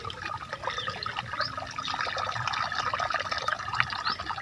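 Steady rushing and gurgling of irrigation water flowing along an open channel into a mustard field in the early morning, continuous and fairly close, with no voices.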